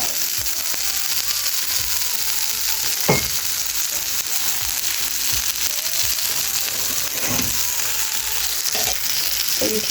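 Burgers fry in a pan with a loud, continuous close-up sizzle and crackle, broken by a few sharper pops and scrapes as they are stirred or turned; no one talks.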